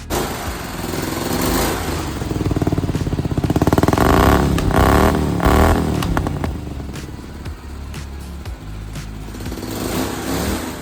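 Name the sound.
20 horsepower Tecumseh V-twin engine with custom exhaust running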